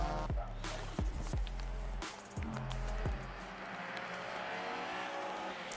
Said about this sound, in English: So the car's making their way around